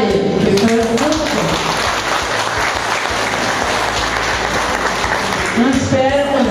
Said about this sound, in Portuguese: gostaria de vocês fizessem uma salva de palmas em homenagem a ele